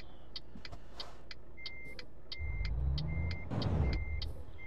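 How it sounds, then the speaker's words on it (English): Cars pass on a French road in Euro Truck Simulator 2, a rising engine rush swelling and fading twice over a steady low cabin hum, with a series of short, regular ticking clicks throughout. "every car in France is going to come past now"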